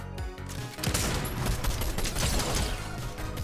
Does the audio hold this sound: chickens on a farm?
no